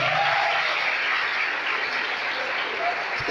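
A church congregation claps together in praise of Jesus during a sermon, producing a continuous, fairly loud wash of applause with no pauses.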